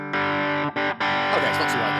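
Electric guitar through a Governor overdrive pedal on its own, a few loud driven chords with brief gaps between them, close and fairly dry.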